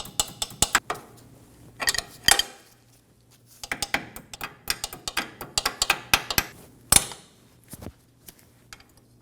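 A cotter pin goes into a ball joint nut on a 2008-2015 Scion xB front steering knuckle, giving sparse metallic clicks, taps and clinks at close range with quiet pauses between.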